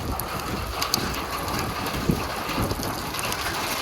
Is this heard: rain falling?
yes